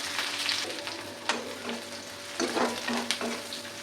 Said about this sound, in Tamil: இது கோல்டன் ப்ரௌன் கலராக வர வரைக்கும் நல்லா வறுத்துக்கலாம்.